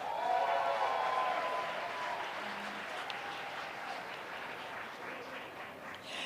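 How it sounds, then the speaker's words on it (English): A large audience at a business school new venture competition finale applauds its winners with dense, sustained clapping, loud at first and tapering slightly, accompanied by a faint murmur. "Now let's give a big round of applause to our winners and finalists."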